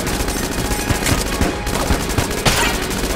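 Rapid bursts of gunfire from the bullet-hell game Enter the Gungeon, a dense, loud volley of overlapping shots running continuously with a few sharper cracks.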